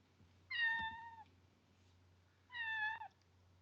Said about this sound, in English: you're the one meowing for attention.